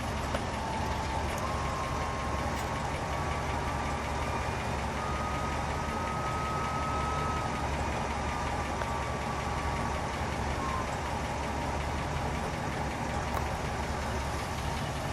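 A 1966 Buick Electra 225 Custom Convertible's engine idles steadily at close range, an even low mechanical hum with faint ticking and no voices over it.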